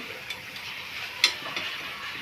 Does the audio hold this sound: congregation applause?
no